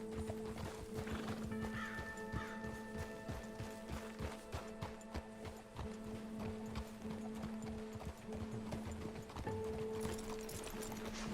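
Continuous clip-clopping hooves with a horse neighing and whinnying over them, moderately loud and close, under a low steady hum, in the video game Red Dead Redemption 2.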